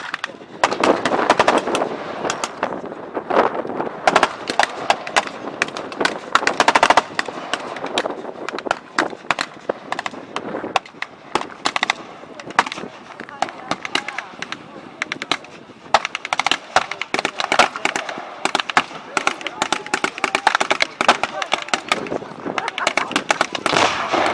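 Loud, nearly continuous rattling bursts of .30 and .50 caliber machine gun fire, mixed with scattered pops, at a Festival of History battle reenactment staging a World War II-era American assault against German positions.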